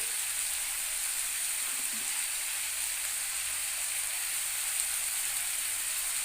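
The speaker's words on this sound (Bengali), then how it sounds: "আলু এবং ফুলকপিকে মিনিট দুয়েক মতন ভেজে নেওয়ার পরে" Potatoes and cauliflower fry in a pan with a steady, even sizzle that holds at one level throughout, close and fairly loud, with no talking.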